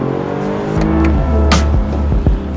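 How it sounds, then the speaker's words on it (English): Engine of a 2019 Toyota Avalon accelerating, its induction noise piped into the cabin: a loud, rising tonal drone with harmonic sweeps and a few sharp transients, heard steadily from inside the car. "induction noise is amplified, piped into the cabin, which is exactly what this vehicle does"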